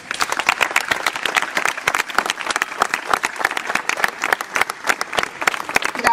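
An audience at the opening of the 2010 Feria gives a strong round of applause, with sharp individual claps rapidly overlapping throughout, fairly close and loud, and no voices.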